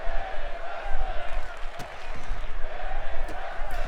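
A crowd at a women's wrestling match between Roxanne Perez and Jessie Carter roars and shouts in a steady, far-spread din, swelling and dipping with a few sharp impacts cutting through.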